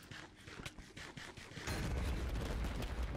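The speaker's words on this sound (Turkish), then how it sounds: "Kendi kendine patladı." A Minecraft 1.19 hardcore-mode explosion erupts suddenly partway through, a loud broadband blast with sustained rumbling debris that follows a stretch of busy in-game clatter.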